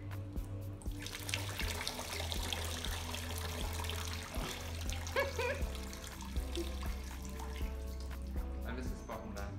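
Water pouring steadily into a bucket for hydro dipping shoes, a continuous splashing trickle with faint background noise and occasional small splashes.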